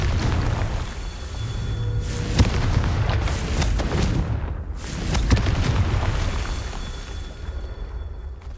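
A Confringo explosion spell goes off in a wizard video game, heavy booming blasts and rumbling bursts repeating across the stretch, loud and close with no voice over them.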